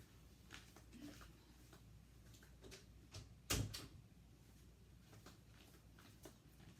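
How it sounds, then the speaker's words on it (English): An office door is shut in a quiet room, giving a single soft thud midway through, with faint ticking and rustling around it. "Let me shut the door to my office all the way"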